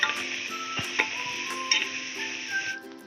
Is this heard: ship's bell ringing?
no